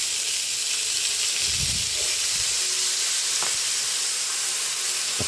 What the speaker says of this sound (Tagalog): Lagyan na natin yung ating pork. Lagyan natin ng konting patis.